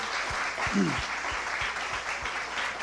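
A church congregation claps steadily, a full and even round of applause in a reverberant room, with a low rhythmic thump running beneath.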